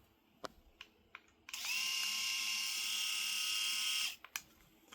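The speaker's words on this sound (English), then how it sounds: "And here is the shaver itself." A Philips i9000 Prestige Ultra Wet & Dry electric shaver runs with a steady high-pitched motor whine for about two and a half seconds, preceded and followed by a few sharp clicks of handling.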